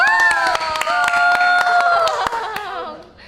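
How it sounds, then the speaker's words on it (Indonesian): An audience claps in rhythmic, distinct hand claps, with a voice singing or calling out over them, fading toward the end. "Tepuk tangan dong."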